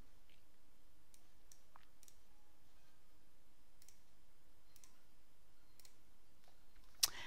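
Quiet, sparse clicks of a computer mouse come in an uneven sequence over a low steady hum, with one sharper click near the end and no voice.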